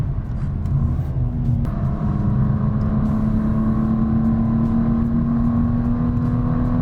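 A BMW M2 Coupe prototype engine accelerating hard: a loud, continuous mechanical drone whose pitch climbs steadily after a brief shift, with road rumble underneath and no talk.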